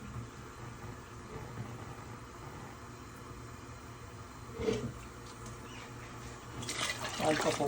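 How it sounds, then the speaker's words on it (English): A cup of water is poured into a cooking pot for a Guyanese one-pot kitcherie of spinach, split peas and rice, splashing briefly midway and then pouring louder near the end over a low background hum. "One cup of water, okay?"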